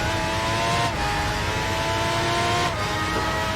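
A V12 Formula 1 car engine revs hard and continuously on the Nordschleife, a loud, steady high-pitched howl close by, with two brief gear-change dips breaking the sustained roar.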